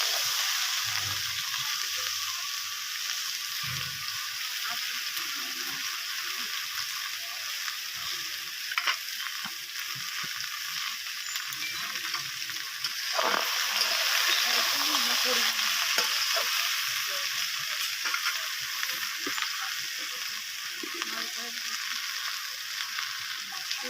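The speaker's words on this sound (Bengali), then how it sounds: "বেগুন আলুটাও লাল লাল করে ভেজে নেব।" Eggplant and potato pieces fry in hot oil in a pan, a steady close sizzle with occasional stirring scrapes throughout, no voices.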